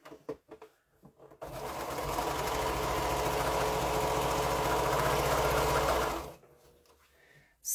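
Sewing machine stitching a quilt seam, a steady fast mechanical whir running for about five seconds after a few soft handling clicks, then stopping abruptly.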